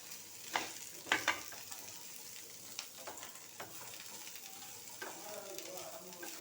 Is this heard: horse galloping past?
no